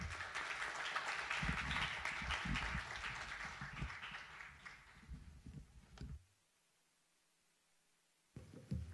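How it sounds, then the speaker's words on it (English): Audience applause fills a conference hall at a GMIS manufacturing session as a UNIDO deputy director general takes the podium: dense, steady clapping for about six seconds, then a quiet pause before a brief rustle. "Please, a very warm round of applause as he takes the podium."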